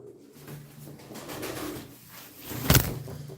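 Pigeons coo in soft, low, throaty bursts, close by, with a louder flutter or rustle near the end and no voices.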